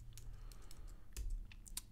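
Keys clack on a computer keyboard as a command is typed, a quick, uneven run of crisp taps with a couple of heavier strokes, close and quiet, with no voices.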